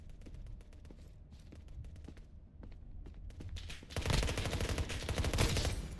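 Gunfire in a Roblox video game: scattered sharp shots at first, then a dense, louder burst of rapid fire with no talking.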